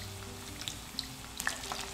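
Crushed garlic sizzles in a pan of olive oil and palm oil, giving a steady, soft frying hiss dotted with tiny pops and crackles, close up and without talk.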